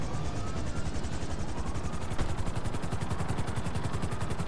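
Helicopter in GTA 5 Online, its rotor beating in a fast, steady chop that stays loud and close throughout with no other sounds over it.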